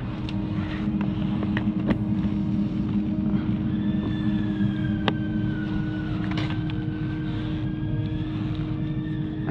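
A Husqvarna 300 TEi motorcycle with a reprogrammed ECU runs steadily after starting. The engine drone is even and moderately loud, with faint tonal whines rising and falling over it and occasional clicks.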